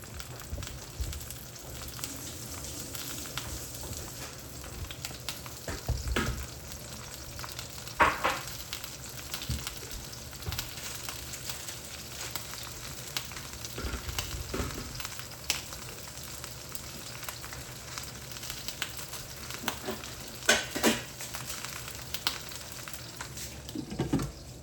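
Eggplant fries in a pan with a steady, dense sizzle and crackle, with occasional louder pops and spits, and no talking.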